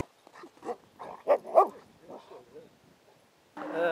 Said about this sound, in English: watched the dogs do some playful fighting